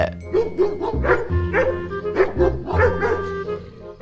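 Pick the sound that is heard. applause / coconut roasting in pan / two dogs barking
two dogs barking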